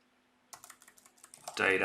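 Computer keyboard typing in a brief burst of quick, irregular keystrokes up close, quiet at first and then getting louder toward the end, with no talking.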